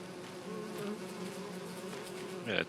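Bees buzzing steadily in the Farming Simulator 25 video game, a continuous insect drone with a louder swell near the end and no talk.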